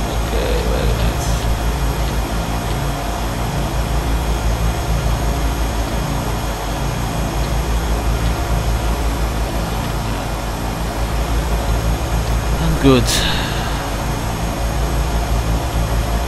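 A Turbine Duke aircraft in the Prepar3D flight simulator holds a steady, loud turbine engine drone throughout, with a brief click near the end and a short spoken word over it.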